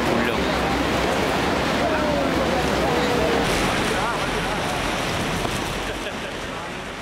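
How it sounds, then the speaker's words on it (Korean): Niagara Falls spray and roaring water heard from a boat deck, a dense steady wash of rushing noise and wind buffeting the microphone that fades slightly toward the end. "곧이어 배가 폭포 속으로 거침없이 질주하자 거대한 물보라가 몰아치기 시작합니다"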